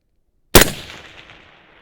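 A single sharp rifle shot from a Haenel CR6.5 fired at a long-range target, loud and close, followed by a decaying echo rolling away over about a second.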